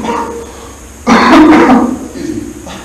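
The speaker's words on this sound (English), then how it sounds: "thought I was going to make it through this without coughing." A man coughs in one rough burst of about a second, loud and close, after a quiet stretch, with softer throat noise trailing off afterward.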